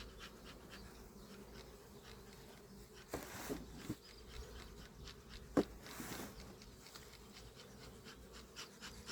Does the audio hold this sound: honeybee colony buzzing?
yes